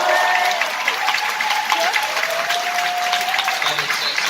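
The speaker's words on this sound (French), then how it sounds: "Je crois qu'on peut l'applaudir très fort." Cinema audience at the Grand Rex film premiere of Nicky Larson Private Eyes clapping loudly, a sustained, even roar of many hands with a faint voice or tone threaded through.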